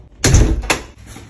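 A door closes with two quick solid thuds about half a second apart, close and loud, then a faint room tone.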